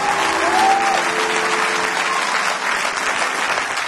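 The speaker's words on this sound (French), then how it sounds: "Acclame la parole, acclame la parole." A church congregation applauds loudly and continuously during a French-language sermon, a dense wash of clapping close by and filling the whole stretch.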